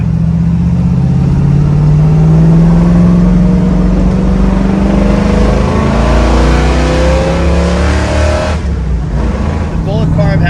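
A classic Ford Mustang styled as a Bullitt tribute, with Flowmaster exhaust and a 4-speed, runs loud and close, its engine note climbing steadily as it pulls through a gear before a shift near the end.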